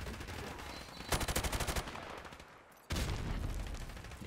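Automatic gunfire in Call of Duty 4 Modern Warfare Remastered during a team deathmatch on the Shipment map: a rapid, loud burst of shots, a short lull, then a second sustained volley close by.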